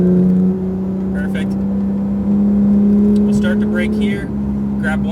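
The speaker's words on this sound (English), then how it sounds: "We'll start to brake here. Grab one downshift." A Porsche 991 GT3 RS on a track brakes with a single downshift, its loud engine drone shifting pitch and briefly blipping while someone talks over it throughout.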